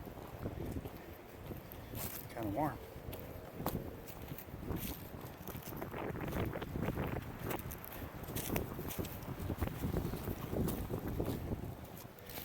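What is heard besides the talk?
wind blowing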